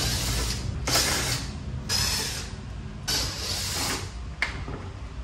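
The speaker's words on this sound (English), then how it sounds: "First thing I have to do is remove the license plate bracket. We need to get that out of the way. Pretty simple, just a couple of screws behind it." A hand ratchet clicks in rapid bursts as screws come off the license plate bracket of a Toyota Tacoma, with four or five close, rhythmic cranking strokes and short pauses between them.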